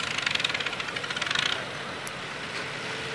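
Tractor engines chug and knock during a tractor race at an outdoor tractor games day, a rapid pulsing rumble for the first moment that then settles into a steadier, slightly softer drone.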